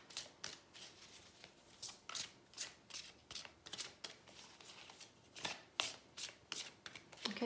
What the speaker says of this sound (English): I've not had to shuffle this much